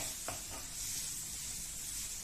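Onions and masala frying in a pan for potato masala curry, a steady close sizzle with a couple of soft scrapes as the mix is stirred.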